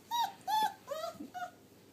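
A puppy whimpers in a series of short, rising whines, with a faint low growl near the end, close and fairly quiet with no talking.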